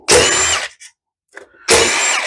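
A mini impact wrench zips out the side cover bolts of a 179cc Craftsman MTD small engine, two loud buzzing bursts with a quiet gap and faint clinks between them.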